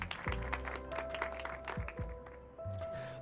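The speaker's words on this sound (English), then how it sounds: "The person gets off the mic to some paltry claps" Sparse, scattered applause from a small crowd in the video game Loverwatch after a performer leaves the mic at an open-mic setting. A few faint claps sit over game music and low background sound, with no talking.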